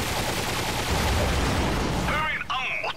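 Gunfire in the video game Ratchet & Clank crackles as a dense, loud barrage of shots and blasts, then eases as brief game voices and chirpy effects come in near the end.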